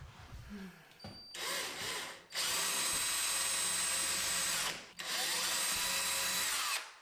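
A power drill whirs in two long bursts, loud and close, drilling holes in a wall to install a thermostat, with a short pause between them after a brief quieter start.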